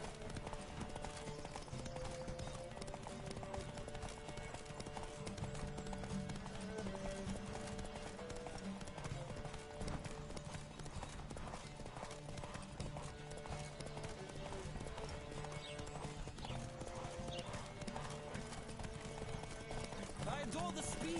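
Horses gallop in a race in The Witcher 3, their hooves pounding in a fast, continuous clip-clop with occasional snorts, while voices talk over the steady drumming.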